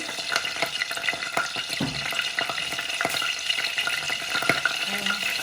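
Mustard seeds splutter in hot oil for a traditional Tamil stingray fish curry, a steady crackling sizzle with scattered sharp pops throughout, close and fairly loud, with no voices.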